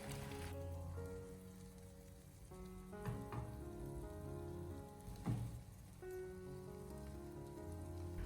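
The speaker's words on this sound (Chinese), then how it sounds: "我们将它持续的煎制一小会，把底部给它煎至金黄焦香以后" A Chaoshan oyster omelette pan-fries in oil with a continuous close sizzle and a few brief scraping or clattering touches, with faint tonal background sound underneath.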